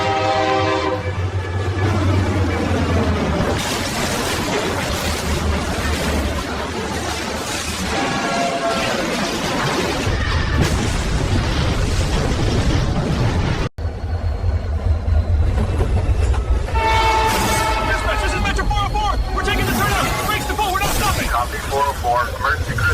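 Metra commuter locomotive train in the Chicago area, a loud sustained rumble with horn-like tonal blasts rising and falling throughout, full and continuous with a brief break midway.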